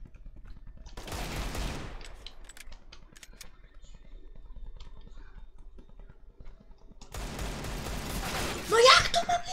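Bursts of video game gunfire from a shooter match, with one burst near the start and a louder one near the end, separated by quieter clicks and small mechanical sounds.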